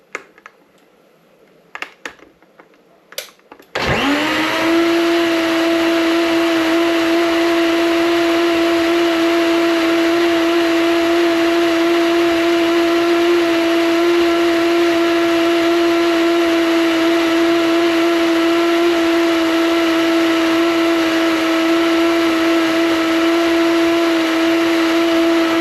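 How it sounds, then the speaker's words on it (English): After a few handling clicks, a blender mixing Jamaican Guinness punch starts up with a loud, steady motor whine and whir that runs without change for about twenty seconds. "Just gonna pop it in the blender and blend it"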